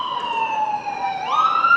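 An ambulance siren wails close by, its steady tone sliding upward in pitch partway through, loud over faint road noise during a girls' varsity ultimate frisbee game.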